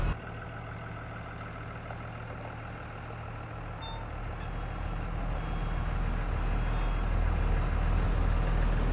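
A bus shifted into drive and pulling away, a steady low engine rumble and road drone that swells gradually as it rolls off, loud and continuous with no voices.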